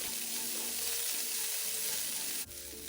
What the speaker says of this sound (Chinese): 蒜末炒香后，再将备好的叉烧倒入，一起拌炒